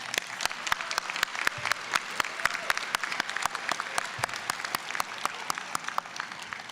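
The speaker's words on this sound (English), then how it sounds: "let's give them a round of applause" Steady applause from a crowd at a nursing pinning ceremony, many hands clapping continuously with sharp, dense claps throughout, fairly distant and even in loudness.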